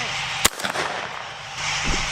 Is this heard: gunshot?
yes